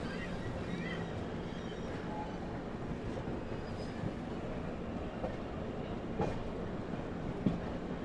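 Passenger train no. 19422 rolling into Prayagraj Junction, heard from inside as a steady low rumble of wheels and carriage with soft rattles and a few faint clanks, no talking.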